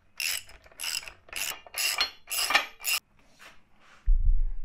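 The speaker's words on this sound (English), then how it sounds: "All right, so let's tighten this thing up." A ratchet wrench tightens bolts on a budget tube bender, six quick bursts of loud clicking followed by two fainter ones, then a low thud, no voices.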